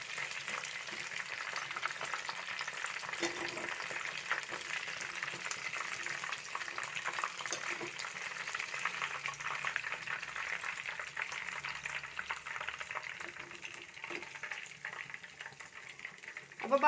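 Chicken pieces deep fry in hot oil for a crispy chicken fry, giving a dense, even bubbling hiss that holds steady at close range for the whole stretch.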